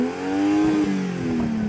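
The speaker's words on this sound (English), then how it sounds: "Go on, rev up your car." A BMW M240i's engine revs up and settles, a steady rising and falling engine tone heard close by with no talk over it.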